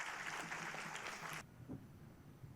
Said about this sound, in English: kindly show your love and appreciation to our performers by applauding